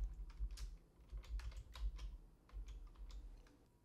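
Quick, irregular keystrokes on a computer keyboard, close and fairly quiet, as a search term is typed into the Windows taskbar; the clicks come in short bursts with small pauses.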